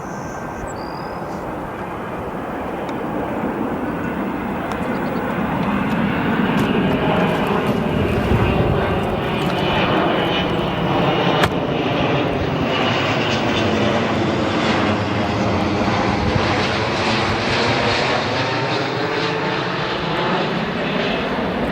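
An Austrian Airlines Boeing 777 lands at O'Hare International Airport with a loud, continuous jet roar whose whine slides in pitch as the big twin-engine airliner passes close and rolls out.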